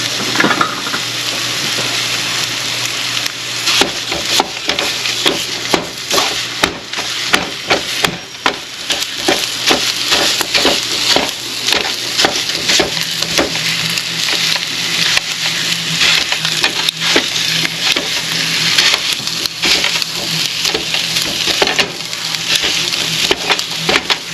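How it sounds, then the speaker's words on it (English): One pound of Italian sausage browning in a pan, sizzling loudly and continuously while a spatula scrapes and chops through the meat in irregular clatters. "I'm getting a spatula here to break it up."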